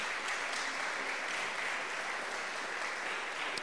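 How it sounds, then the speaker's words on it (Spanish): A church congregation applauds during a sermon, a dense, even wash of clapping heard from within the room, moderately quiet and sustained without a break. "Denle un fuerte aplauso al Señor otra vez."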